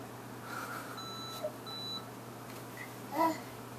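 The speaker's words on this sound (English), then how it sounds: "Microwave. Beep, beep, beep, beep, beep, beep." A toy kitchen microwave gives two short, high electronic beeps about half a second apart, over a quiet room hum. A faint click follows near the end.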